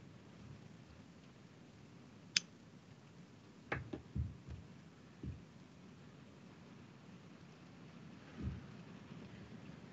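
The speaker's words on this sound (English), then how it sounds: "Is that rain? Is it raining out, producer? We are in a major storm." Rain falling steadily outside during a major storm, a constant soft hiss with a few distant thunder rumbles and sharp cracks scattered through, faint and low behind an indoor setting with no talking.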